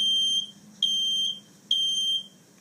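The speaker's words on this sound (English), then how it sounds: "I will start the fire alarm sounds in my home." A home smoke alarm sounds three long, high, shrill beeps in a steady on-off pattern, moderately loud and alone in a quiet room.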